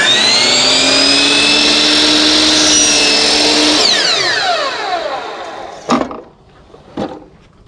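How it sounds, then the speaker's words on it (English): A chop saw cutting PVC pipe to length spins up with a loud whine, bites through the pipe, then spins down, followed by two sharp knocks of the pipe being handled. "So I'll cut my PVC to 11 inches."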